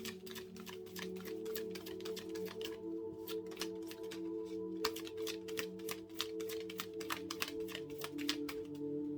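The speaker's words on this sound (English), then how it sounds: "all I'm hearing when I'm shuffling is tarot, all the tarot" Rapid, steady riffling of a tarot deck being shuffled, crisp repeated flutters over a faint constant hum, no voices.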